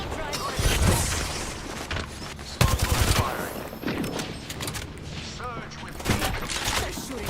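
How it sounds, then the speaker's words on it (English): Bursts of rapid gunfire from an Apex Legends match crackle through the clip in dense volleys, with loud sharp shots near the start, middle and end, layered with game effects and a player's voice talking. "They're shooting at me."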